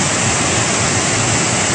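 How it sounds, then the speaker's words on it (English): Avery Creek Falls in Pisgah National Forest, North Carolina, swollen with snowmelt and rain, pours in a loud, close, unbroken roar of rushing water with no other sounds. "This is Avery Creek Falls. Really roaring today with the water being so high from snow melt"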